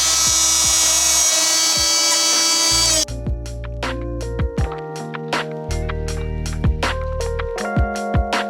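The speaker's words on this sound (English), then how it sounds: "Drilling a hole in that pearl" A small high-speed drill bores a hole in a pearl, whining steadily at first, then breaking into rapid stuttering bursts as the bit catches and releases, loud and close.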